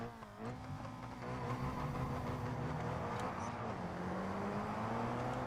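Car engine in BeamNG revving hard at a race launch, a steady loud roar with rising harmonic sweeps and a dip near the start, continuous throughout.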